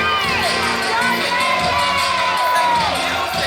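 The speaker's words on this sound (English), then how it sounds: "Crowd maybe not as favorable of a reaction towards him" A crowd at a City Championship Wrestling anniversary live event reacts to a wrestler's walk to the ring. The cheering, whoops and shouts form a loud, dense roar throughout, with some piercing whistles mixed in.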